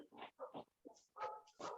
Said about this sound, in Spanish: perdonad si oís a los perros